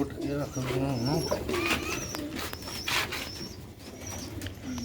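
Sialkoti rooftop pigeons coo and call in a lively cluster, with chirpy notes and a few wing flaps, while someone talks over them.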